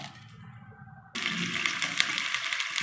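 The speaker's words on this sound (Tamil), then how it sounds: "அது மூழ்கிற அளவு தண்ணி ஊற்றிக்கணும்." Water pours steadily into a pan while making brinjal fry, a sudden loud rushing splash starting partway through and continuing close up after a quieter stretch.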